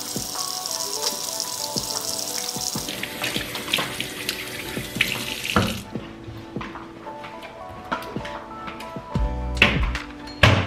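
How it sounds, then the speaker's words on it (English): Hands washed at a kitchen sink under a running tap, a steady hiss of water for several seconds that stops, followed by drips, splashes and light clinks nearby. "we're gonna get our hands washed"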